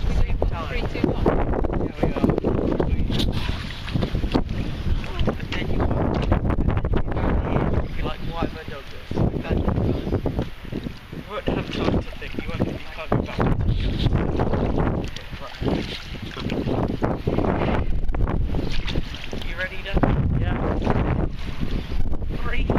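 Strong wind buffets the microphone in loud, gusty rushes throughout, with people talking underneath and water sloshing nearby.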